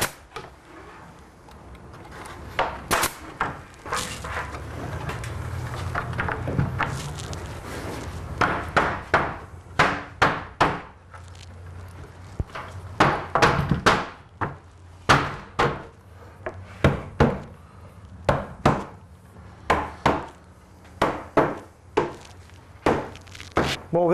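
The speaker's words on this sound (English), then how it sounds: "where Daryl's nailing right now" Hammer driving nails into sloped, beveled wooden window trim, a series of sharp close knocks in irregular bursts, some quick double taps, with quieter handling noise between.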